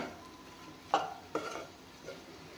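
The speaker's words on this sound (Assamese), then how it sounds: "এতিয়া অলপমান ভাজি ল'ম।" Raw jackfruit curry with spices and salt being stir-fried in a pan: a few soft scrapes and clinks of a spatula, about three brief strokes spaced apart, faint over a quiet background.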